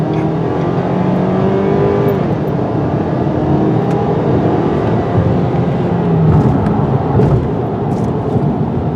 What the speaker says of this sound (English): This motor and the 8-speed automatic transmission got lots of pep.